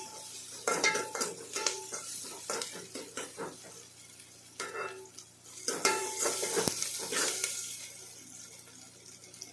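Onion, curry leaves and mustard seeds sautéing in a pan for a greens curry produce a light sizzle, broken by bursts of spoon scraping and clinks of metal utensils against the pan.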